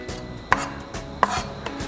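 A knife cuts thin peel skin on a board for a green curry, making a few quick, close, crisp chopping strokes with soft scraping between them.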